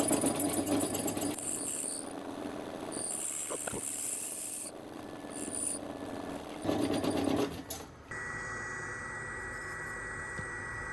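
A special square-hole drill bores into material during boat roof work on a 25 ft Bertram, running as a steady close buzzing grind with brief pauses and changes in pitch throughout.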